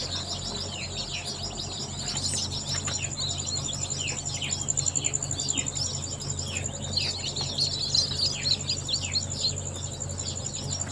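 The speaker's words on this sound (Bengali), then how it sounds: "এগুলো হচ্ছে টাইগার মুরগির বাচ্চা।" Tiger chicken chicks chirp in a rapid, overlapping chorus of thin high peeps. The calls run steadily throughout over a low background hum, close by and fairly loud, with no talking.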